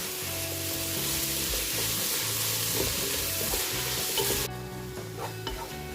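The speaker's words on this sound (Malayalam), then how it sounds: "ഇനി തക്കാളി ചേർത്ത് നന്നായിട്ട് വഴറ്റിയെടുക്കാം" Tomatoes sautéing in a hot pan for fish biryani, a steady broadband sizzle with repeated stirring scrapes, close and continuous, the frying noise easing slightly in the last second and a half.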